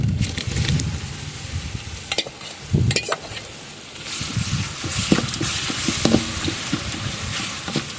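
Spices and ginger-garlic paste sautéing in a pan with salt added for chicken biryani, a continuous loud sizzle broken by scraping stirs, close up, with no talking.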